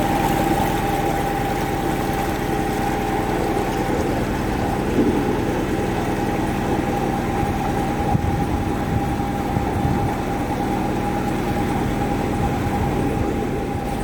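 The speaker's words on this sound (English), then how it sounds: "I'm going to start the engine, untie the ropes." A narrowboat's diesel engine runs steadily at idle on a hot day, a constant low throbbing drone with a faint tonal hum and no talk over it.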